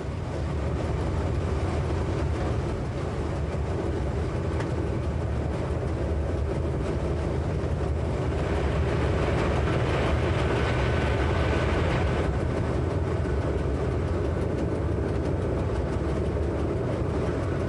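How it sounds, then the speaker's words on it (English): A BLS electric locomotive hauling a train up a steady 1 in 37 Swiss mountain gradient, giving a continuous loud rolling rumble and wheel noise heard from on board throughout. "The one in 37 gradient is maintained throughout, but the BLS locomotives can easily hold their speed,"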